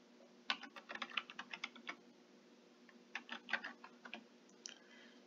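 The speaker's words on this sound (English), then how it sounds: "you can go up to the search bar and type it in" A search typed on a computer keyboard, two quick clusters of light key clicks separated by a short pause, close and fairly quiet, no talk.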